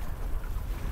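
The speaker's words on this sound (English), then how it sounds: "I feel a good gust." Steady, loud wind rush against the microphone while wing foiling on open water, a continuous blustery roar with slight swells in intensity and no talking.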